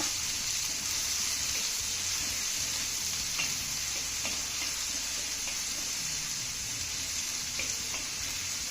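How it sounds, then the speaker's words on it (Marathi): Finely chopped onion sautéing in a hot pan for a Maharashtrian okra dish: a steady, soft sizzle with a few faint clicks of stirring, with no talking. "आता हा कांदा ना चांगला मौसूद होईपर्यंत परतून घेऊया"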